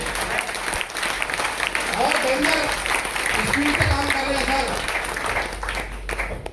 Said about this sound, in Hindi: एक बार ताली हो सकती है आरसीएम के लिए